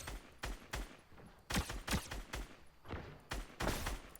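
Rapid bursts of Fortnite gunfire crack out in uneven volleys, several loud shots clustered close together with short gaps between, sounding near and punchy with no talking over them.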